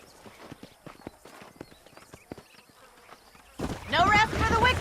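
Horse hooves clip-clop at a steady, brisk pace in the western game Red Dead Redemption, close and fairly clear, before louder hoofbeats and a horse's whinny take over near the end.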